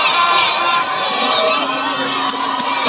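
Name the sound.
football crowd cheering at stadium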